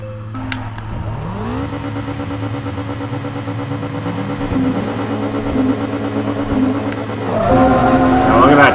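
A 2003 Toyota APR Performance Celica GTS race car in Forza 2 spins its tires as its engine idles, then climbs in revs, with a louder surge near the end.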